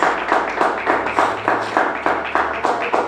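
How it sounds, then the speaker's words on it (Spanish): A church congregation claps in steady, rhythmic bursts, loud and close, with the pulses repeating about every quarter second. "Dale ese aplauso al Señor Jesús."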